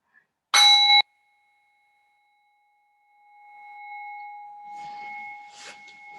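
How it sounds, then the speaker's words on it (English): Meditation bell at the end of a yoga rest, struck once with a bright, loud attack and a clear, pure tone that rings on steadily for several seconds while faint rustling of movement rises beneath it. "when you hear the sound of the bell"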